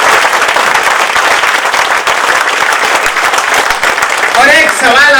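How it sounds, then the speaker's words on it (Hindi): An audience at a mushaira poetry evening claps loudly for the poet, a dense, sustained roar of hands with crowd noise, and a voice rising over it near the end. "इतनी जोर से तालियां होनी चाहिए।"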